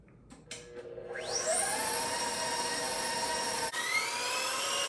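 A handheld electric mixer whirs up to speed and holds a steady high whine while beating strawberry cream cheese filling, after a few brief clicks at the start, with a sudden shift in pitch near the end and no talking.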